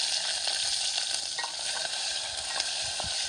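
Curry leaves and coriander sizzle and crackle in hot oil in a pan, a steady close frying hiss with small pops and no talking.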